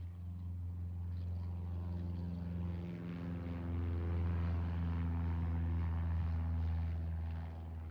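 Propeller aircraft engines rev up in a sustained, loud, droning hum with steady tonal harmonics that swell slightly louder partway through, with no other sounds on top.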